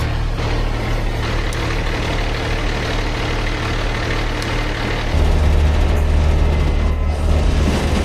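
A tractor engine idles close by in a steady, heavy low rumble, which grows a little louder and deeper partway through as the revs rise, and no one talks over it.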